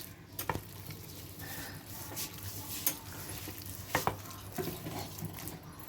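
Marinated mince being stirred by hand with half a spoon each of tandoori masala and shahi garam masala for meatball curry, a soft wet squelching mix with occasional dull clinks of a bowl, low and close, no talk.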